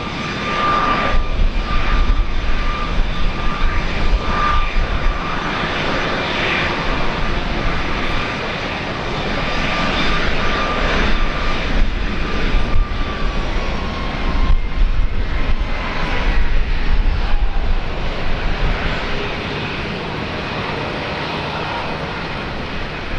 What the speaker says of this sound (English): runway 19 right, clear for takeoff